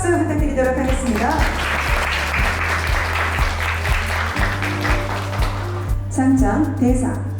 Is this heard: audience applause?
yes